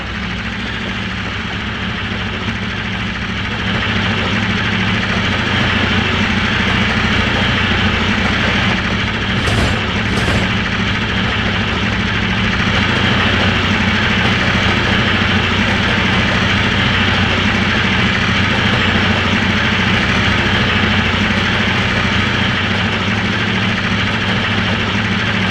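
A locomotive engine at full throttle on a straight section of track, a loud, steady, deep droning roar that holds constant as it picks up speed, with a brief higher whine partway through.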